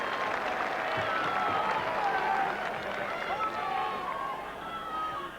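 Crowd at a 1989 Wales versus Newbridge rugby match roars and claps in a broad, sustained swell of cheering, with voices audible over the noise.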